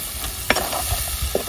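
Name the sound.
crab masala frying in oil in a pan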